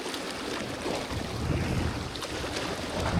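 Steady wind buffets the microphone while waves wash and slap around a canoe on Lake Rogen in Sweden, a continuous rough roar with no voices.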